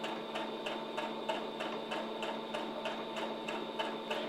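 Sewing machine stitching bias tape around a curved apron edge, a steady rapid rhythmic ticking clatter at moderate volume, close by and without talk.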